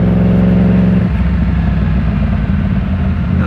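A Yamaha MT-10 motorcycle engine revs hard, a loud continuous mid-pitched roar that shifts tone after a second and keeps pulling steadily, with no voices.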